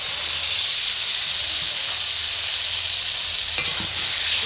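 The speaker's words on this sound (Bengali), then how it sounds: "মশলা ভালোভাবে কষানো হয়ে গেলে দিয়ে দিচ্ছি ফুলকপি আলু ভেজে রাখা।" Fried cauliflower and potato are stirred into cooked-down spices in a pan over a wood-fired clay stove, giving a steady, loud sizzle and hiss throughout with a brief scrape of stirring near the end.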